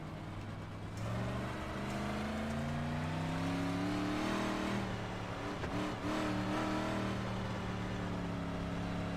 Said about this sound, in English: Pace car's passing now.